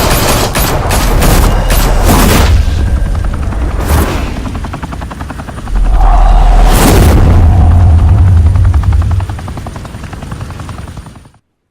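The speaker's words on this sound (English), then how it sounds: "Open fire!" Gunfire in the Batman Telltale video game, with bursts of shots and booms over a loud, continuous helicopter drone, dense and close throughout.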